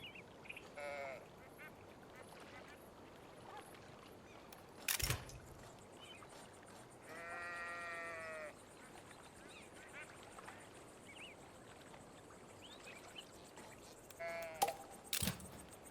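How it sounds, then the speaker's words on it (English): Sheep bleat in the video game Town to City, a few short wavering cries spaced apart, quiet beneath soft game ambience, with a couple of sharp clicks in between. "Look at the sheeps. Look at how cute they are."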